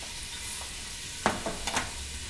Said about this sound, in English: we're going to sear the meat. You can hear it searing.